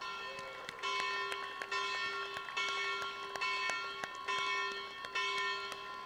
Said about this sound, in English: Bell of NSC that is placed on the stage, which will be rung in a few moments from now.